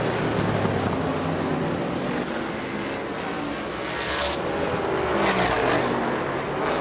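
Winged sprint cars roaring around a dirt oval during a heat race, a dense, continuous loud engine drone with shifting pitch as cars pass, steady throughout.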